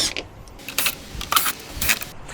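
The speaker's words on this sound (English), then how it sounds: "Let's go ahead and pull these screws out and get this open" Screws are pulled from a 24-volt rooftop air conditioner's housing with a few quiet, close metallic clicks and light rattles spaced irregularly, and faint voices in the background.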